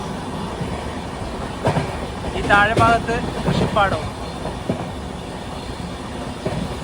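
The Navyug Express, a Katra to Tirunelveli sleeper train, runs along rails near Renigunta with a steady rolling rumble, clicking wheel joints and brief squeals, while someone talks over it.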